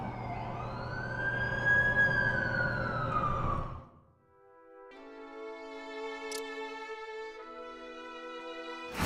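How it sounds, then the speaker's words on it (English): An ambulance siren wails in The Amazing Spider-Man 2 video game, a loud rising and falling tone that breaks off, then returns as a steady electronic warble. "That's the ambulance I called."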